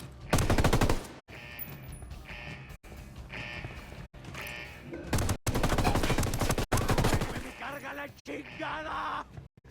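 Gunfire in a GTA-style tactical shootout, with loud rapid bursts of automatic fire broken by brief silent cuts, forming a dense, close, continuous barrage.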